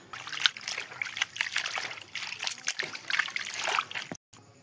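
Water splashes and trickles in busy, uneven bursts as gourd leaves are rinsed and rubbed by hand in a basin, close and fairly soft, ending abruptly.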